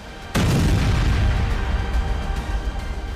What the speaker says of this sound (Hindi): ये वीडियो नतांज परमाणु फैसिलिटी का है। यहाँ धमाका देखिए।